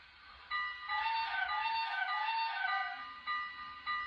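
An HO scale model train whistle sounds in a couple of reedy, harmonic blasts, one long wavering tone followed by short toots, fairly close with quiet background.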